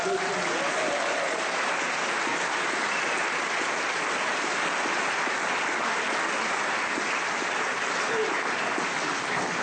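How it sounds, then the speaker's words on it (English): A London audience at a society launch event breaks into a long, loud, unbroken round of applause, a dense hiss of many hands clapping at an even level from start to finish. "Give yourself a round of applause"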